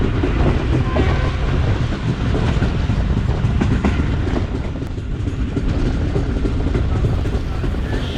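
The Tezgam passenger train slows on the approach to Raiwind Junction. It gives a loud, continuous rumble of rolling wheels and carriages with rattling clatter, heard steadily from on board.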